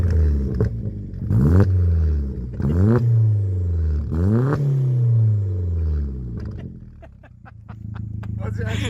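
A car with a newly fitted exhaust revs hard in repeated rising and falling blips, deep and throaty, close and loud, with crackles and pops as the revs drop near the end.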